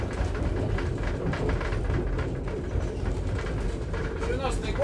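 A passenger railcar hauled by a diesel locomotive rolls along with a steady, heavy rumble and rattle that continues throughout, under a murmur of voices.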